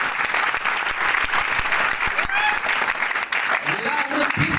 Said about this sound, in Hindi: क्या उनके लिए एक जोरदार ताली नहीं होना चाहिए?